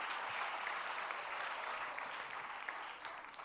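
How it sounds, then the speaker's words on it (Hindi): An audience at a spiritual discourse session in Agra breaks into steady, enthusiastic clapping, a dense continuous applause heard at moderate distance that holds for several seconds before easing slightly. "जरा सभी मिलकर जोरदार तालियां।"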